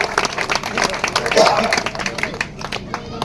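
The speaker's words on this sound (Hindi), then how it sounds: "उठ करके मानव समाज के बच्चे जोरदार तालियां बजा करके स्वागत करो आप।" Crowd at a village welcome gathering for a former MLA from Bhadra, Rajasthan, clapping in a dense burst of many hands, loud and continuous with a general babble of voices underneath.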